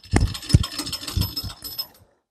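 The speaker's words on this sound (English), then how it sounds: "get the lathe back in the gear" A metal lathe clunks back into gear, with a few sharp mechanical clicks and ratcheting knocks in close succession, then the machine noise dies away into silence.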